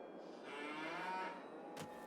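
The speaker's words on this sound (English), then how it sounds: "I'm not sure how to get the milk out of the cows." Cattle in Farming Simulator 22 give a drawn-out, mid-loud moo from the game's farm, followed by a brief sharp noise near the end, with no voices.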